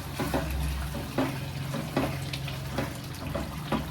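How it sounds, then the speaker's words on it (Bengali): About half a cup of hot water pours into a simmering spicy chicken mince curry, giving a close watery splash and gurgle with a few soft pulses, and no one speaking. "1/2 কাপ মতো গরম জল। আপনারা যেরকম গ্রেভি খাবেন সেই রকম জল দেবেন।"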